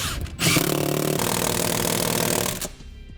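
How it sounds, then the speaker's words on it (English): A power tool runs steadily for about two seconds, driving the bolts that hold the seat of a 2017 Jeep Wrangler back into place; close and loud, with a whirring tone that starts and stops abruptly. "Now we'll reinstall our bolts that hold our seat in place."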